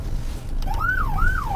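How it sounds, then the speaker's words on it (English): Police patrol car siren on the streets of Plattsburgh, starting up and wailing in two quick rising-and-falling sweeps over low engine and road rumble. "Want to hit the siren to get them to stop?"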